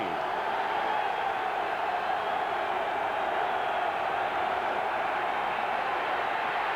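A football stadium crowd at an Eagles–Redskins game roars in a dense, continuous wall of cheering that holds steady and loud throughout, with no distinct voices standing out.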